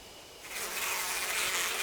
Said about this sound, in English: The bee swarm descends on us again.